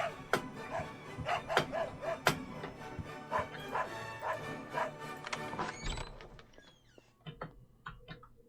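Dog barking in the Sherlock Holmes: Nemesis video game, a run of sharp close barks and yips in an uneven rhythm over the first six seconds, then fading to fainter whimpers and a few clicks.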